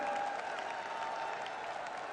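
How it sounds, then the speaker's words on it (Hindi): A crowd claps steadily at a public rally in Jodhpur, Rajasthan, welcoming the prime minister. The dense applause is fairly faint and distant and carries on evenly with no pauses. "एक बार जोरदार ताली बजाकर आदरणीय प्रधानमंत्री जी का वंदन करें, अभिनंदन करें।"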